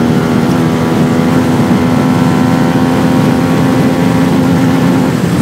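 A CFMoto 250NK motorcycle engine revs hard through third gear up to the rev limiter, a loud, steady rising drone that fills the clip with no pauses and no voices.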